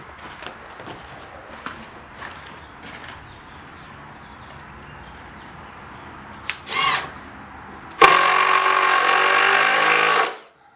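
A power drill drives a screw during the build of a pull-behind camper, whirring loudly and steadily for about two seconds after quieter handling and bumping noises.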